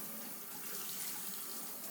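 A tap runs steadily while washing machine parts are rinsed, a soft, continuous watery hiss with a light splash, faint and unchanging, heard alone.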